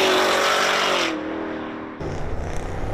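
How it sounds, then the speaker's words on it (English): Cars revving on Woodward Avenue, a main strip in Royal Oak, with a loud close engine roar and rising rev that fades, then another engine growling in at close range. "It's the revving of the engines, and they're constantly, this is like the main strip, constantly revving"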